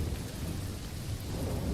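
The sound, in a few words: heavy rain with thunder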